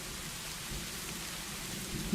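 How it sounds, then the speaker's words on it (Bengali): Steady rain falling over a potato field, a dense even wash of drops with a low rumble underneath, continuous and close, with no voices. "এদিকে বৃষ্টি হচ্ছে, আলুতে একটু পানির প্রয়োজন ছিল"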